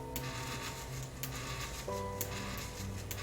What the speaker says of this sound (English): We see the auger motor is being driven, we hear it